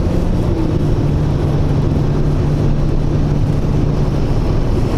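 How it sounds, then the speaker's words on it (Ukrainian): An Audi A6 C6 accelerates with its gearbox pulling, heard as a loud, steady engine and drivetrain drone with a low sustained hum and road noise, continuous and close inside the car. "Коробка чути, як вона, знаєш, так затягує"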